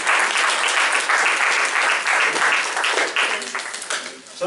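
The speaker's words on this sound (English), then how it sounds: "Give yourself a round of applause for being here" An audience at a community organizing meeting claps loudly and continuously for a few seconds, then the applause tapers off toward the end.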